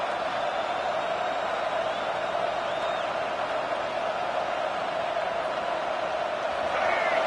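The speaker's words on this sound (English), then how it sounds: "Listen to this crowd just shaking the girders of this place trying to help their defense." A stadium crowd at a UNC vs FSU college football game roars steadily and loudly, a sustained wall of cheering and noise that carries on throughout.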